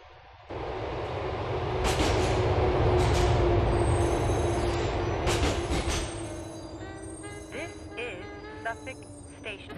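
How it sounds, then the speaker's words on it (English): A C train in GTA4 arrives at Suffolk Station with its rumble rising and then fading. Squealing brakes and creaks follow as it slows to a stop, and no one speaks. "The train is approaching Suffolk Station."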